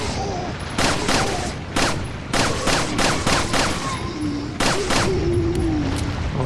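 Rapid gunfire from a Resident Evil 4 gameplay session: bursts of loud, close shots crack in quick clusters with brief gaps between them, standing alone without talk.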